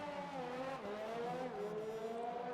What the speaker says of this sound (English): revving the engine quite a lot on the exit of the pit lane